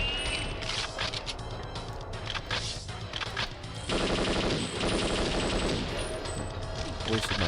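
Gunfire in the PC port of the video game Perfect Dark, rapid automatic bursts that swell louder partway through, mixed with sharp impacts and game noise.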